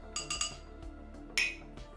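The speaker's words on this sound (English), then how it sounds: "Clinks. All the clinks." Glasses clink in a toast: a quick run of three bright, sharp clinks, a pause, then one louder ringing clink, close and without talk.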